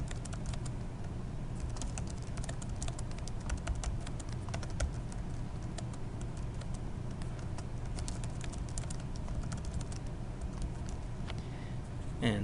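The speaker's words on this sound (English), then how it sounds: "go ahead and type in an appropriate title" Fingers tap quickly on a computer keyboard, a continuous patter of light clicks close by and fairly soft, with no talking.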